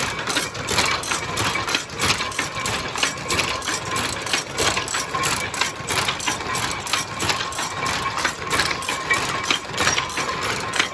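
A Rakhine handloom weaves cloth in a weaving village, giving a steady, rapid mechanical clatter with rhythmic beats that continues loud and close throughout, without speech.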